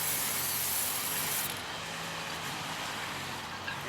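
A PlastiKote spray paint can lets out a loud, close hiss for about a second and a half, then cuts off, leaving a softer steady background hiss.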